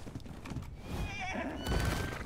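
A horse in the video game ARK Survival Evolved gives a loud, close, quavering neigh, with some hoof clatter and game noise around it.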